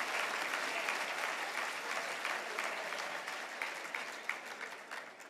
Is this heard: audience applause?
yes